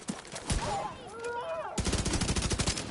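Rapid gunfire from The Division 2 video game on PS5, a burst of sharp repeated shots with a dense run of quick reports, mixed with game sounds and some talk.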